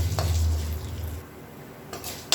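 Chana dal lentils sizzle softly, frying golden in a hot pan as a spoon stirs and scrapes the metal, with a low hum underneath and a brief clink near the end.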